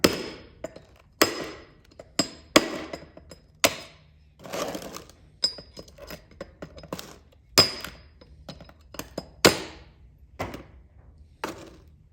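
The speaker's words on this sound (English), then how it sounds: "Put it on a soft box and just gently tap it." A porcelain light fixture resting on a soft box is tapped repeatedly with a tool, giving sharp irregular knocks and cracks with brief ringing tails, close by in an otherwise quiet space.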